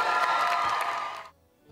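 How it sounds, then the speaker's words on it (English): An audience cheers and applauds for a school chorale, a loud burst of crowd noise with whoops that cuts off abruptly. "Act after act got the big applause."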